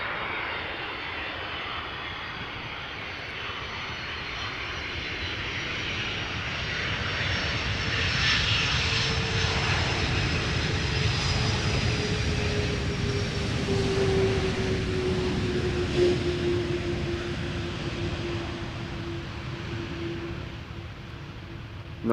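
An Icelandair passenger jet landing at Amsterdam Schiphol Airport, a steady broad engine roar that swells toward the middle and holds, with a faint rising whine, heard from a distance outdoors and without voices.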